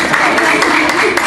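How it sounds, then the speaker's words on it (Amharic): Audience applauding, a dense wash of many hands clapping close by, steady and loud throughout with a few sharper claps standing out. "አጨብጭቡላት"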